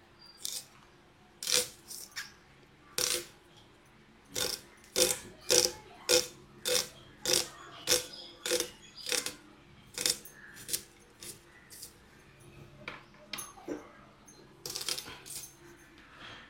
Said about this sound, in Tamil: இப்போ வெங்காயத்தை பொடிசாக கட் பண்ணிப்போம்